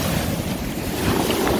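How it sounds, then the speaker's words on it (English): Waves on a Lake Superior beach crash and wash in a dense, steady roar, with heavy wind buffeting the microphone over the surf. "look at these waves. This is crazy."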